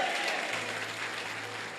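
Applause fills a church vigil service, a steady, soft wash of many hands clapping at a distance for about two seconds with no voices over it.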